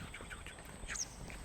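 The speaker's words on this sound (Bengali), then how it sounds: "বন্যপ্রাণীর ডাক শুনতে পাচ্ছি, পাখি ডাকছে।" Faint bird calls chirp and quack in the distance in the Sundarbans forest at Dublar Char, over a quiet, hissy outdoor background.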